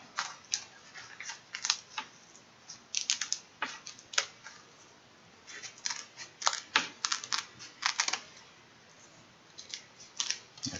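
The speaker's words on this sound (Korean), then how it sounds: "가위를 이용해서 다듬어 주시면 되겠습니다" Scissors snip fins from a whole dried pollack, a rapid series of sharp, close crisp cuts in irregular bursts with brief pauses, no talk over them.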